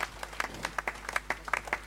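A church congregation gives a clap offering, a short burst of sparse, distinct hand claps at an uneven rhythm, fairly faint against a quiet room.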